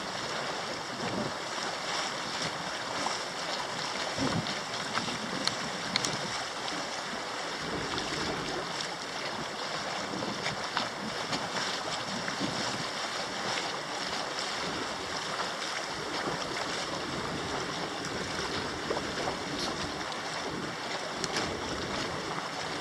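A sailing boat motoring under engine with no sails up in the Sound of Mull, Scotland, giving a steady broadband rush of engine, water and wind noise, constant and fairly loud with no talking.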